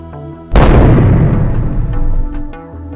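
A missile strikes and explodes as a cartoon effect: one sudden loud boom that rumbles and fades over a couple of seconds, with faint tonal music running underneath.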